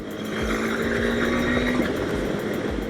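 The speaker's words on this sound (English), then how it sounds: "Let's try the quick shifter from first gear itself. So let's rev it up." A 2020 KTM 390 Adventure motorcycle revs hard in first gear with its quickshifter, a loud rising engine whine that cuts off sharply near the end, followed by a lower rumbling note up close.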